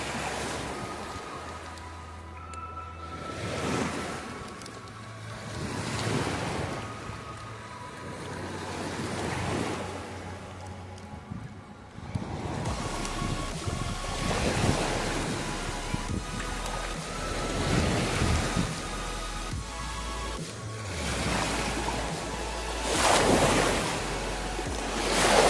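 Rough waves from the rising Río de la Plata break against the shore at Costa Salguero, a fishing spot. Rhythmic surges roll in every few seconds under constant gusting wind buffeting the microphone.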